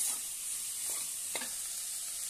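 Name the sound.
sautéing green beans and potatoes in a pan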